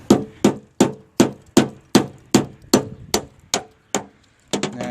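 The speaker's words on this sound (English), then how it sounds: "and then just going straight in with the hammer" A hammer strikes a 5-in-1 tool wedged into a 2000 Dodge Dakota fender, about eleven sharp metallic blows in a steady rhythm, each one close and loud with a quick decay.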